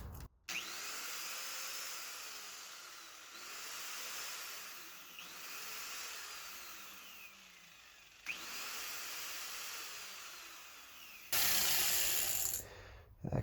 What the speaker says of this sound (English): so I'm going to have to use an angle grinder.